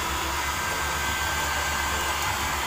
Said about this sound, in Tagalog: Binablower na siya ngayon.